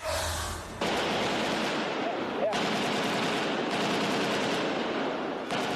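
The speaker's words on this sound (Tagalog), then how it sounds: "umalingaw mga unang putok ng baril" Bursts of rapid gunfire crackle in the distance, several sustained volleys separated by brief pauses, with a noisy, chaotic background.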